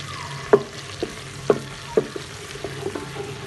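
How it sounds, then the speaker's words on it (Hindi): Onions sauté with ginger garlic paste in a pan, giving a low, steady sizzle close by that is broken by a few sharp clacks and scrapes from stirring. "इसको हम साटे करेंगे।"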